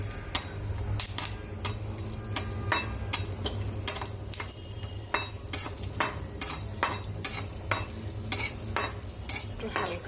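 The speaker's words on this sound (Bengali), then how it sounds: "আমি এবার কাজু বাদামটাগুলো ভাজবো। একটু ঘি দিচ্ছি" Cashew nuts frying in ghee in a pan while they are stirred, giving brisk, regular clicks and scrapes of a utensil on the metal over a soft continuous sizzle, close and with no talking.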